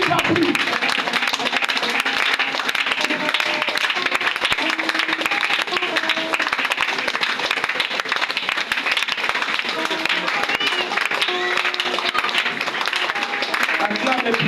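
A church congregation claps and acclaims during fervent prayer, steady applause spreading across the whole stretch and blending with loud overlapping voices and cheering.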